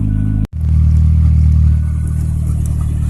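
A Ford Probe engine running on a DIYPNP ECU idles unevenly after a sharp cutout and restart, a loud, close low rumble that wavers and surges with a faint rattle.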